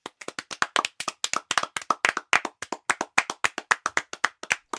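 A small classroom of students claps for classmates, a fast, loud run of distinct, close hand claps with slightly uneven rhythm and no talk.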